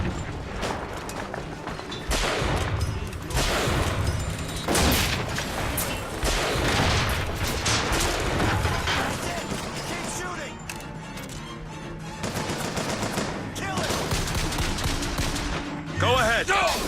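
Heavy, sustained gunfire and blasts from the video game Bioshock Infinite roll on almost continuously, loud and close, with a voice speaking over the fighting.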